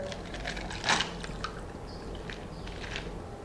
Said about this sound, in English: my cup of ice, pour the drink over.